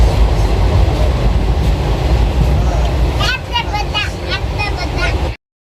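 Passenger train heard from inside a carriage on an overnight journey, a loud steady rumble of running wheels, with a voice speaking midway over the noise before it abruptly stops.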